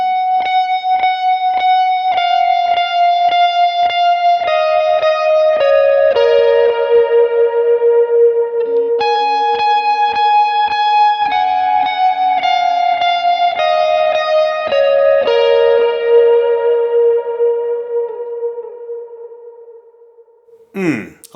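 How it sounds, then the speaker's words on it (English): Clean electric guitar lead line from a worship song, washed in big modulated reverb and a dotted-eighth delay, sustained notes repeating in rhythmic echoes before a long shimmering decay, played alone. "I have the big modulated reverb and a dotted eighth note delay"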